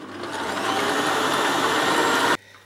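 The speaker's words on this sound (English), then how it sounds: "Now this time I'm going to use an electric mixer." An electric mixer fitted with a whisk beats six egg whites toward stiff peaks, giving a steady, loud, close motor whir that runs unbroken for about two seconds and then cuts off abruptly.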